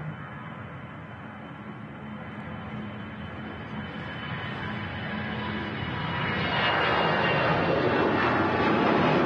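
An EasyJet jet airliner on its takeoff roll at Manchester Airport, a distant broadband roar that swells steadily louder toward the end.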